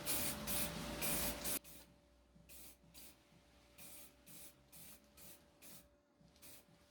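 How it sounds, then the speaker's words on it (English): An aerosol can of transparent protective spray hisses over varnish, one long burst followed by a run of short, evenly spaced spurts, close and fairly quiet. "spray a layer of transparent spray that will give extra shine and protect the varnish"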